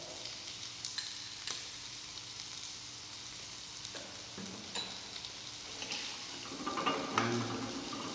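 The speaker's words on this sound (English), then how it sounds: "And cook it nicely so that it will get a good consistency" Black pepper sauce simmers and sizzles in a pan after garlic and salt go in, with a soft steady frying hiss, occasional clinks of stirring, and a brief watery rush near the end.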